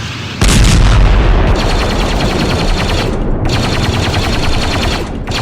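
Star Wars battle video game fire in which blaster shots and artillery blasts erupt into a dense, continuous barrage, loud and close, with rapid repeated bursts and heavy booms running throughout.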